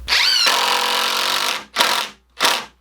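A power driver sinks screws into 2x4 lumber: one long whirring run, then two short, sharp bursts with silence between. The tool is close and loud, with no talk.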